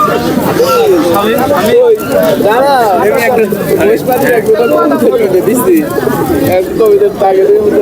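A pair of koka pigeons coos at a busy pigeon market, their throaty, rolling calls repeating close by while people chatter and talk over them.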